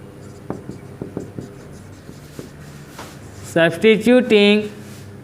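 Pen strokes scratching across paper while working a Class 10 maths equation substitution, a few short taps and scribbles in the first seconds before a burst of voiced speech takes over near the end.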